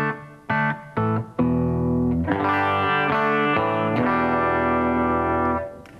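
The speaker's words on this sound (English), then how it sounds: "the clean tone is essentially the sound of the guitar straight into the amp." Clean electric guitar tone through a tube amp, guitar straight into the amp: a few short plucked notes, then strummed chords that ring out and sustain, loud and alone.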